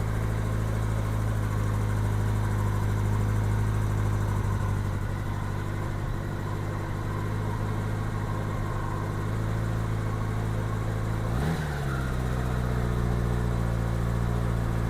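The engine of a 1987 Honda GL1200 Gold Wing motorcycle idles steadily during carburetor synchronization with a close, even rumble. Near the end the revs briefly rise and fall, then it settles back to idle.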